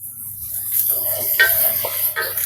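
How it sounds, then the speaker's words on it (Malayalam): Onions sautéing in a pan with salt added for shrimp rice, a soft steady sizzle with a few brief stirring scrapes of a utensil against the pan. "സവോള ഇവിടെ നിന്നിട്ട് നന്നായിട്ട് വഴന്ന് വരട്ടെ."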